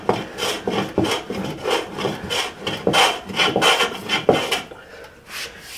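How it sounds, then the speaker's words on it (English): Glue residue is rubbed and scraped off a wooden boat mast in quick, irregular back-and-forth strokes, each a close, dry rasping swipe, with no talking. "I'll just clean up a little bit of residue."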